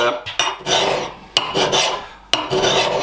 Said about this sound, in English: This file has a coarse cut